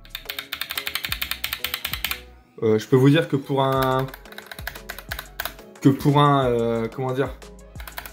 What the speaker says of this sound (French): Le clavier, c'est un Corsair K55 membrane.